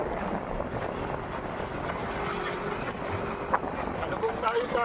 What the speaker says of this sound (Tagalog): Malakas yung hangin sa lubog natin guys.